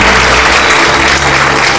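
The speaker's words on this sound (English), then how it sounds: "they're all out here cheering them on too" A crowd cheering and clapping without pause, a dense, loud wash of applause that holds steady throughout.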